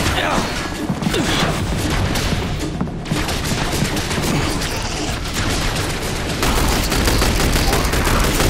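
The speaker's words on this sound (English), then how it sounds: "Keep on firing!" Dense bursts of gunfire crackle nonstop in a firefight in the video game The Bureau: XCOM Declassified, loud overlapping shots and impacts with shouted voices mixed in, swelling heavier near the end.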